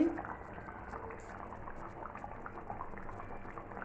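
Curry bubbling away in a pot on the stove, a soft, steady simmer with faint gurgles and pops running evenly throughout, close by and quiet, with no talk over it.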